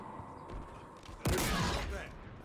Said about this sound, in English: this is just one massive like spike that I'm shooting at people